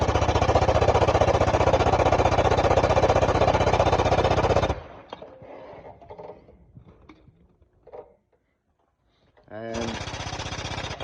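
Pneumatic air jack raising a Duramax truck for front ball joint work, a loud continuous rapid hammering for several seconds that stops abruptly, followed by quiet clunks and a brief restart at the end.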